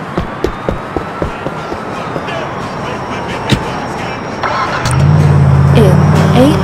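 A car engine in the video game GTA 4 starts and settles into a steady low idle hum, after a stretch of game ambience with light taps and a voice speaking.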